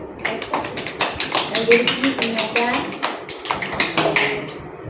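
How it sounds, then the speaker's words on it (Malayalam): A group of children at a childcare centre in Thrissur clap their hands together in a burst of quick, uneven, overlapping claps that carry on steadily, with some voices mixed in underneath. "അപ്പൊ ഒന്ന് ക്ലാപ്പ് ചെയ്ത് എല്ലാവരും."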